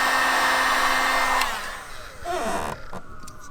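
A heat gun blows a loud steady whoosh while warming vinyl wrap on a car in a backyard garage, then it cuts off and comes back weaker with uneven, shifting airflow.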